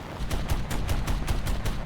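An aircraft cannon firing HEFI-T rounds in War Thunder gives a rapid string of heavy thudding shots at a slow, even rate, loud and close over a constant engine roar.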